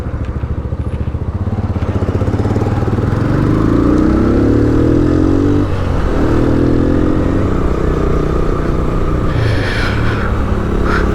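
A motorcycle running on high-octane fuel rides fast along an expressway toward Muzaffarabad in Azad Kashmir, its engine drone loud and steady throughout, with heavy wind rush and no talking.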